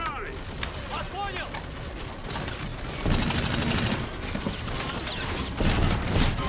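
Rapid gunfire in Call of Duty: Infinite Warfare crackles amid mechanical clatter and busy in-game noise, with bursts of shots growing louder toward the end.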